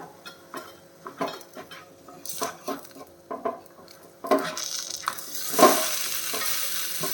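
A ragi bun dosa cooks on low flame in a pan: several light spatula scrapes and taps come first, then the dosa is turned over and a louder, steadier sizzle takes over.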